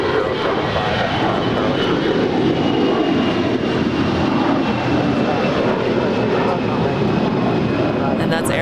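An Air Canada Airbus A321 jet departs LAX, its engines giving a loud, steady roar that fills the whole stretch, close and unbroken.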